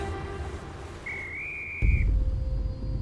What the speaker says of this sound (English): Just then, Julian heard a whistle.